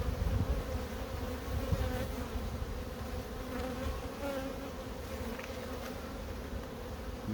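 Bees buzz over a brood frame lifted from a hive, a constant close, layered hum with individual insects passing nearer now and then.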